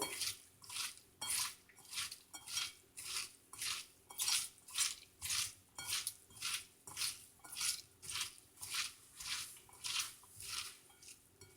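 Bitter gourd sambol is mixed by hand, giving about fifteen evenly spaced wet squishing pulses in a steady rhythm, close and fairly quiet.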